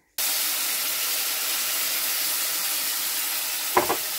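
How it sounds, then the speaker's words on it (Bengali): Ground spice paste hits hot oil in a pan, a steady loud sizzle and hiss that runs unbroken, with a brief clatter of stirring near the end. "মশলাটা খুব ভালো করে কষতে হবে।"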